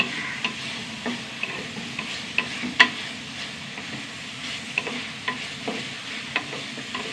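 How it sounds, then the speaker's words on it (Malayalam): Okra and dried chilies sauté in a pan, a soft sizzle broken by regular scraping and tapping of a spatula stirring them. "ഈ വറ്റൽമുളകും വെണ്ടയ്ക്ക് നന്നായി വഴണ്ട് വരണം കേട്ടോ"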